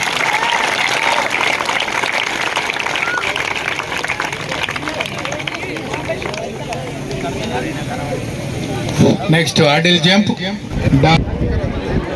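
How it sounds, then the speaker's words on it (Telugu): Crowd at a police dog demonstration during a public celebration in Sircilla, clapping loudly and steadily throughout, with chatter mixed in and a few louder bursts near the end. "గట్టిగా చప్పట్లు అందరూ"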